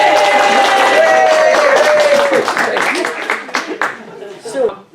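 A social club audience practices its applause, a dense burst of many hands clapping together with crowd noise and voices, loud at first and thinning out toward the end.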